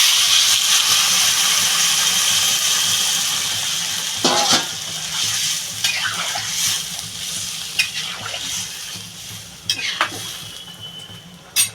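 Water goes into a sautéed taro and hilsa fish curry in a pan, setting off a loud steady sizzling hiss that fades as scattered scrapes and metallic utensil clinks punctuate the cooking.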